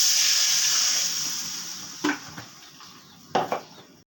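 Broth poured into a pan of potatoes and spices makes a bright rushing hiss that fades as the flow eases, followed by a few sharp metallic clinks of a utensil against the pan.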